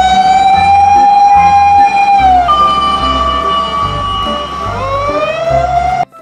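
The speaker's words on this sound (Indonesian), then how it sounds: "mobil pemadam kebakaran" A loud fire truck siren wails steadily with a long rising and falling tone, accompanied by rhythmic low thumping beats underneath.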